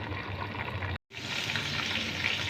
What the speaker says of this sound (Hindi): अब इसमें लहसुन अदरक का पेस्ट डालूंगी मैं।